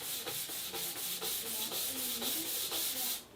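A hand rubs repeatedly across a sanded guitar neck with a roughened satin-style finish, giving a series of soft, close, dry swishing strokes in a steady rhythm with no voice.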